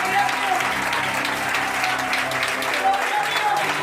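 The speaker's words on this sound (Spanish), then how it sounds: "la iglesia aplaude a Cristo" A church congregation at a Cuadrangular service in Comandante Fontana applauds in dense, sustained clapping that fills the room, steady and loud throughout, with faint voices and a held musical tone underneath.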